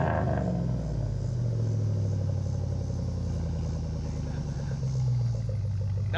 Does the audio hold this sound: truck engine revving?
yes